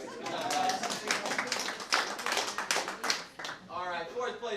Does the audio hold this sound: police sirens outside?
no